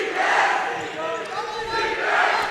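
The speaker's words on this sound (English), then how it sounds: "Listen to that fired up crowd." Fired-up crowd cheering at a high school district championship basketball game, a loud continuous roar of voices that dips briefly and swells again.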